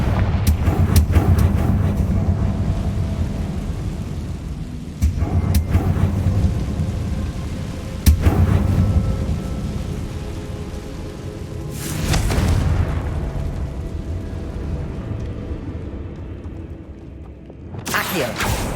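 Confringo fire blast spells in the Hogwarts Legacy video game go off as several booming explosions spaced a few seconds apart, over a steady rumbling background of combat noise.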